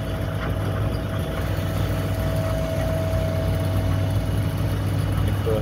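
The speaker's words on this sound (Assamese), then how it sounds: "এয়া ট্ৰেক্টৰ আহি উপস্থিত হৈ গৈছে চব।" A tractor engine idling at a brick kiln, a loud, steady low rumble and hum that holds unchanged from start to finish with no talk over it.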